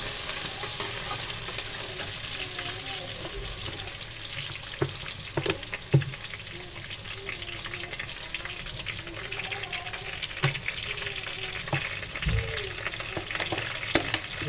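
Vegetables, pumpkin pieces in oil, browning in a frying pan with a steady broad sizzle and occasional scraping stir clicks, close and continuous with no talking.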